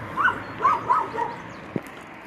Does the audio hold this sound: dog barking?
yes